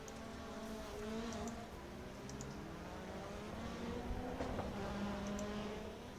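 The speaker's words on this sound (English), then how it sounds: "That is Lindo doing donuts" A car doing donuts on the infield of a racetrack at a Volkswagen outlaw racing event, a steady distant engine drone with slowly shifting pitch, faint and continuous.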